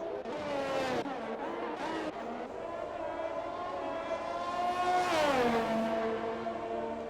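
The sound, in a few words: race car drifting at Monaco's Mirabeau corner, from a racing video game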